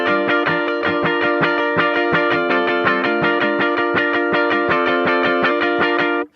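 Distorted electric guitar chugs out a funky intro riff in a tight, steady rhythm of muted, percussive strums, loud and close, then cuts off abruptly.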